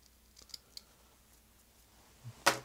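Scissors snip fly-tying wing material at the bench, a few faint small clicks followed by one sharp, close cut near the end, in otherwise quiet surroundings.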